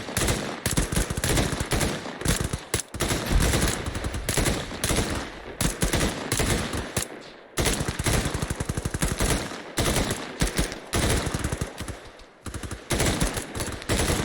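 Sustained automatic gunfire in Arma 3 during a squad attack drill, loud and dense bursts of rapid shots rattling almost continuously with brief pauses, no voices over it.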